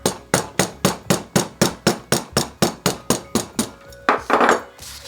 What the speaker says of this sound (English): we can enhance that a little more even now by hammering that down a little bit.